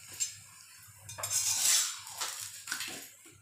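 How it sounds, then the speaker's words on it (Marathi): Metal clatter of a flat iron tawa and utensils while chapatis cook on a hot, lightly oiled griddle, with repeated clinks and scrapes close by and no voices. "तर आपण पाहू शकता की तवा गरम झालेला आहे आणि त्यावरती ही चपाती"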